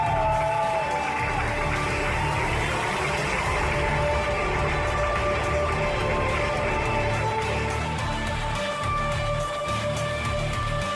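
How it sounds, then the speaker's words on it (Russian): A large crowd at a final fills the space with continuous loud applause and cheering, a dense steady roar that does not let up. "могу я попросить самые громкие аплодисменты для команды АМГ"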